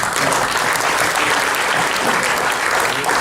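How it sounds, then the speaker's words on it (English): A crowd at a gathering applauds two women, steady, close clapping from many hands holding at an even level throughout. "A round of applause to the two women that we have here"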